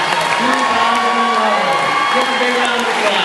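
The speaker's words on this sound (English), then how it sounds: "Give a big round of applause." A large crowd cheers, whoops and applauds at a 2011 high school commencement ceremony as the graduating class is presented, a loud continuous wash of clapping and shouting with no break.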